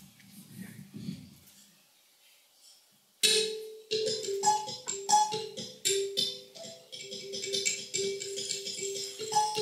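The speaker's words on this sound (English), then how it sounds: "This is kalimba." A kalimba is demonstrated during a Japanese device-art lecture and demo. Low murmuring comes first, then a short pause. Plucked, resonant metal tines follow in a lively, uneven melody, with many overlapping ringing notes and buzzy rattles, played close and fairly loud.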